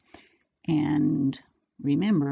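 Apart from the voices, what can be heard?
dog making noises in the background, wanting out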